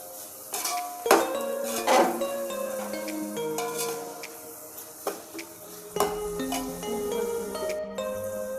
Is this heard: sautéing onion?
yes